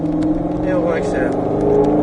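Ford Mustang GT500 (2021) accelerating on a race circuit, a steady loud engine drone heard from inside the car throughout, with an instructor's voice talking over it.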